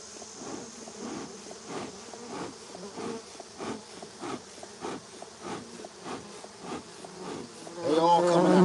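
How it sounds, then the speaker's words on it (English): Honeybees pour out of a trap-out cone fixed to a 200-year-old cedar tree, a dense, close swarm buzz that pulses in waves and swells louder near the end. "There's so many more bees coming now."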